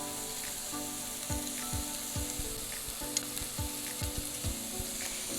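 Garlic paste and ginger fry in a pan with a steady bright sizzle, broken by repeated scraping and stirring strokes at a moderate, close-up level.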